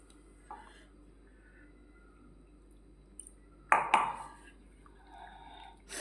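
Water splashes into mung bean flour batter in one brief, close pour midway through, with soft kitchen clinks and a quiet room around it.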